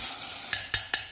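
Sautéing onion with a little tomato stirred in a pan, soft sizzle under three quick, sharp scrapes of the spoon near the end, close by.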